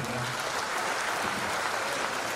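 Applause for the Secretary General at a formal speech event of Indonesia's land ministry, a steady wash of many hands clapping at moderate distance throughout, without a break.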